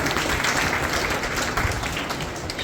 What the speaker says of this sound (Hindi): जोरदार तालियां हरनूर के लिए।